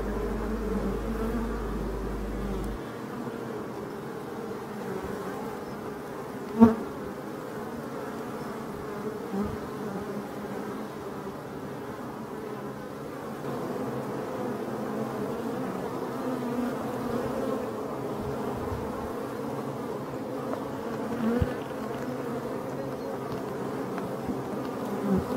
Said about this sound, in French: je vous laisse en tête-à-tête avec les abeilles pendant 40 secondes